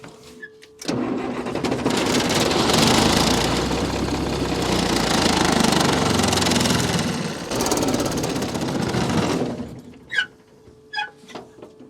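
A military truck engine turns over in a loud, continuous cranking run of about eight seconds, then cuts out, leaving a few faint knocks and clicks.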